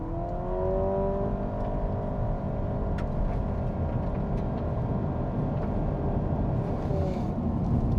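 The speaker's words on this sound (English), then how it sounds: "rev it up, and away we go." A 2025 Honda Civic Hybrid engine whines and hums as it accelerates, its pitch rising smoothly under steady road and wind noise.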